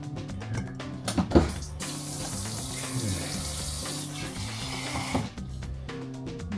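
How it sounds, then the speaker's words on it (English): Tap water runs steadily into a cooking pot holding halved vegetables, a continuous splashing rush lasting several seconds, with a couple of brief clanks near the start and the flow tapering off near the end. "fill this with water just to cover it."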